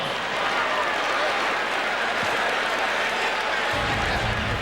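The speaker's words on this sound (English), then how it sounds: "Let's give him a round of applause." Crowd applause at an NBA All-Star weekend basketball game, a dense, steady wash of clapping and cheering filling the arena for several seconds, with speech mixed in.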